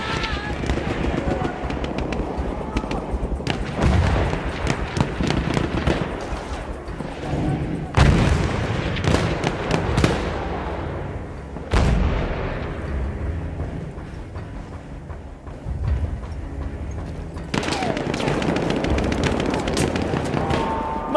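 Heavy gunfire in Battlefield 1, a World War I shooter, sounding as loud dense battlefield shooting and booming blasts through the whole stretch, with sharp bursts standing out amid continuous rumbling war noise and shouted voices.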